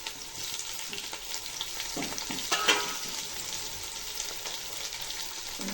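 Garlic fries in a pan with a steady broad sizzle and occasional stirring scrapes, close by and without speech.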